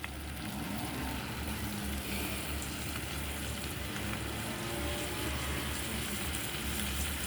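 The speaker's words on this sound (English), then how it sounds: "And you can hear the simmering sound of the food cooking." Food simmering and sizzling in a pan over a raised flame, with potatoes among the ingredients: a steady, even crackle and hiss that runs on unbroken at moderate level, close by, with no talking.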